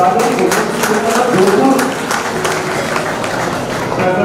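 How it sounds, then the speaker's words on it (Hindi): Audience applause for guests at a state-level talent award ceremony, a steady wash of clapping under a loud, busy hall with voices mixed in throughout. "जोरदार तालियां मेहमानों के लिए"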